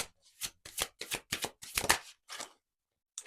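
Tarot cards are shuffled in a series of quick riffling bursts, about seven close, crisp flurries with short gaps, ending in a pause before one last soft touch. No voices are heard.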